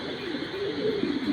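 Racer pigeons at a breeder's loft cooing, a soft low murmuring coo rising over faint background noise.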